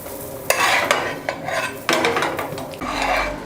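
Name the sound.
flipping a fluffy omelette in a pan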